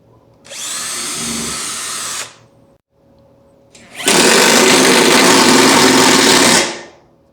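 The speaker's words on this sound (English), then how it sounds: "I also pre-drill the holes, so I really don't want the wood to split" Power drill pre-drilling holes in wood while building a solar power equipment board: two close, loud whirring bursts, a short one then a longer one, separated by a brief pause, with no talking.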